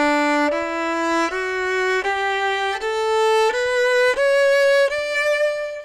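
A bowed string instrument plays a sequence of sustained notes, stepping between pitches with smooth swells and tapers on each stroke, alone and close.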